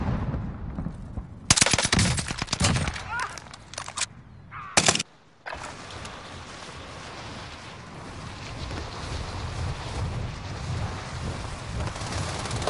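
Video game gunfire in bursts, rapid automatic volleys crackling loud and close for a few seconds, then giving way to a steady rain-like wash of background noise.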